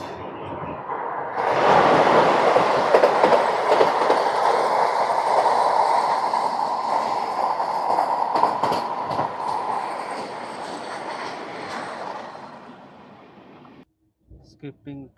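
The 20811 Visakhapatnam–Nanded Superfast Express runs through Pithapuram railway station without stopping, a loud rushing roar with clattering wheels that swells quickly, holds, then fades away, leaving brief faint knocks.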